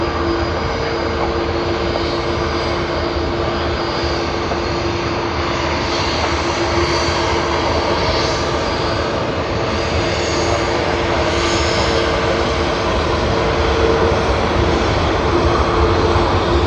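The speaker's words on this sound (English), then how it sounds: "Another A330 of Qantas." Qantas Airbus A330 airliner at Sydney Airport, its jet engines producing a loud, steady roar with a sustained whine that continues throughout.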